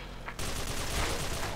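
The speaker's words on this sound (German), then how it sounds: "ich krieg schon hier Schüsse reingeballert" A sudden, loud barrage of sustained rapid gunfire breaks out during a team deathmatch in the shooter game S.K.I.L.L., dense and continuous after a brief quieter lead-in.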